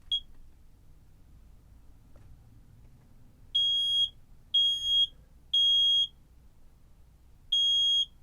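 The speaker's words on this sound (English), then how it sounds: "That's the smoke detector" Photoelectric smoke detector sounds several sharp, piercing high beeps in short bursts, loud against a quiet room, with gaps between them.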